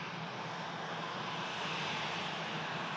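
Steady, loud roar of a Ryanair airliner's engines on the runway, a broad continuous rush that holds and swells slightly throughout, with no voices.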